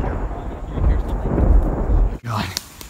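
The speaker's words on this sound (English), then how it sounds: "Dude, I can hear the thunder." Thunder rumbles during a thunderstorm in a forest, a loud low roll that swells and fades over a couple of seconds and breaks off abruptly, followed by brief rustling and a faint voice close by.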